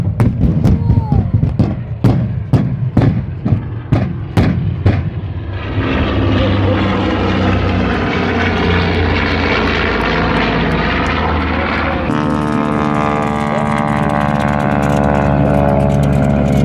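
A B-25 bomber's engines roar during a bombing-run display at the Oshkosh air show: a series of heavy thuds, then a loud, steady, droning engine rumble that grows fuller and keeps going without pause.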